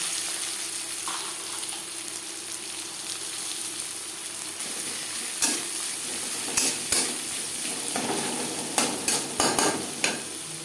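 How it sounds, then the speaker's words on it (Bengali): Chopped onion sizzles in hot oil in a wok, a steady frying hiss joined later by sharp clinks and scrapes of a stirring spoon, no speech. "কড়াইতে আবারও তেল দিয়েছি দিয়ে দেবো পেঁয়াজ কুচি"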